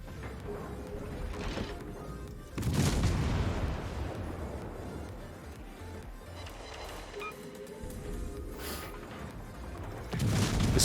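Naval artillery fire in World of Warships, with a Benson destroyer trading gunfire against a Fantasque: booming salvos burst out at intervals over a steady rumbling battle bed, loud and close, with no talk.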